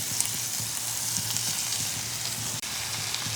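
Onion flower and shrimp curry with coriander leaves sizzles steadily in a pan as it is stirred, a continuous bright hiss with faint low scraping underneath and no voices.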